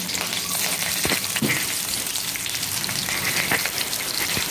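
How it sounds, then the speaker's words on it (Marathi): Garlic and curry leaves fry in oil with a close, steady sizzle and scattered spitting crackles, no talking. "छान परतून घेतलं लसूण आणि कढीपत्ता"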